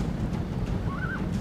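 Horses of horse archer cavalry in Rome Total War, a busy low rumble of hooves with a brief whinny rising and falling partway through, with no talk over it.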